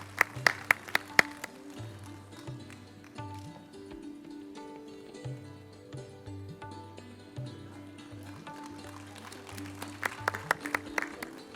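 Audience applause for prize winners at a healthcare management valedictory session, with bursts of clapping at the start and end and softer sustained sound with background music in between.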